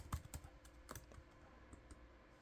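Keys on a computer keyboard being tapped while making craft fair labels, a handful of quiet, close clicks in an uneven rhythm, with bursts of strokes near the start and scattered taps afterward.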